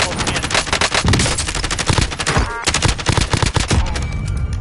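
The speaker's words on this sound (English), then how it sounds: "they're getting shot at" Dense automatic gunfire rattles nonstop in a Call of Duty match, loud and close, with rapid bursts overlapping into a continuous fusillade and a brief dip midway before the shooting resumes.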